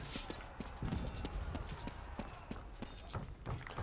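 Horse hooves gallop in the medieval combat game Chivalry 2, a quick run of rhythmic clip-clop thuds under steady battle din, loud and close throughout.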